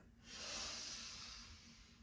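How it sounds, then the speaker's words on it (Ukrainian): One long, slow breath drawn out during a morning dynamic yoga breathing warm-up, a soft airy hiss that swells and fades, close and quiet, with no voices. "Вдих, видих до кінця"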